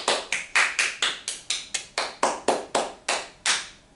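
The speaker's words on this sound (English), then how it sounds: "So give yourselves a round of applause" About a dozen sharp, evenly spaced claps ring out for a round of applause aimed at young students in a calligraphy lesson, each crisp and close, with no talk.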